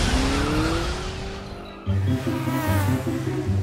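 A cartoon race car whines and revs as its tires squeal in a long rising screech, then the engine drops into a throbbing, pulsing growl close up.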